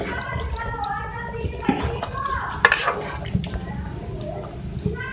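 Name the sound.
stirring aloo phool gobi in a pan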